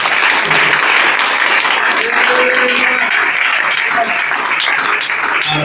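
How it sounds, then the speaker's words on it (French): Church congregation applauding together in a steady, dense burst of clapping that fills the room, continuous and fairly loud throughout, with a few faint voices mixed in. "Acclamez pour vous-même."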